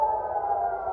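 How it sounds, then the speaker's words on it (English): Missile air raid siren sounding in Israel, a steady sustained wail holding one pitch throughout, loud and continuous with no voices. "Shortly after the attack in Iran, missile sirens sounded in Israel."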